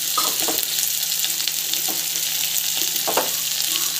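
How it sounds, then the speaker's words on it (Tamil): Chana dal and urad dal sizzle and fry in an oiled pan, a loud, continuous crackling hiss with a few soft stirring scrapes close by, and no voices. "ஸோ கடலைப்பருப்பு கொஞ்சம் போட்டேன், ஸோ நல்லா வதங்கிட்டேன்"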